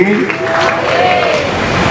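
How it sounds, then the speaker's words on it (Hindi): An audience at a Hindu devotional scripture recitation breaks into applause, a brief burst of clapping heard under a sustained voice. "एक बार जोरदार तालियां बजा दो।"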